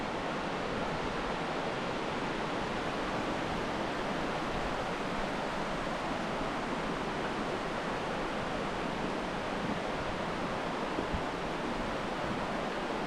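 Stock Creek rushing beneath the Natural Tunnel, a steady broadband wash of flowing water heard close and continuous with no talk over it.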